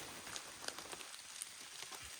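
Steady rain falls at a campsite, a soft continuous patter of drops on surfaces with occasional louder close drips, quiet and unbroken, with no voices.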